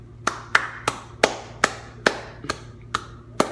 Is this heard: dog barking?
no